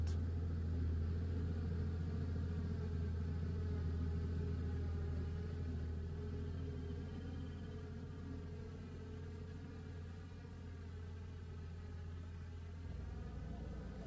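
Low, steady rumble of a truck shop's engine as the vehicle arrives at a waiting crowd in 1960s Rwanda, a continuous idling hum that eases slightly toward the end.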